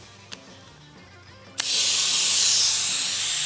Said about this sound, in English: I took a little bit of transmission fluid mixed with paint thinner and sprayed it on there